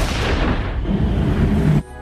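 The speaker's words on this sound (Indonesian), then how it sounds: "keranjang itu meledak" A trash basket explodes in a film scene: a loud, deep blast with rumbling debris that cuts off abruptly near the end.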